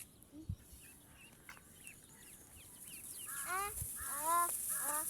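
Incubator-hatched ducklings, including a white Beijing duckling, peep in quick high chirps, sparse at first and then clustered and fairly close near the end, over a faint background hiss.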